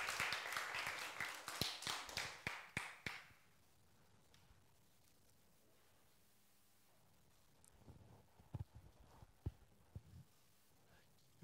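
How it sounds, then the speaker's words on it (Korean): Brief clapping from a church congregation welcoming a saxophone player, a short run of a dozen or so distinct, fairly faint claps over about three seconds, then near silence with a few scattered taps and knocks. "여러분 박수로 맞이해 주시기를 바랍니다"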